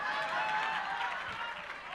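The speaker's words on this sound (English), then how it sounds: "You better clap harder." Audience at a youth-owned brands awards ceremony clapping steadily, a dense, continuous wash of applause with overlapping voices and cheering mixed in.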